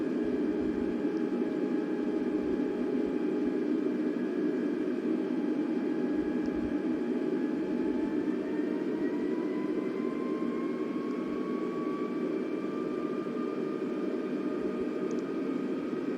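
An Airbus A320 on approach with gear and flaps extended in Flight Simulator 2020 gives a steady, loud jet engine drone with a whining tone that slowly climbs in pitch, heard alone and unbroken throughout.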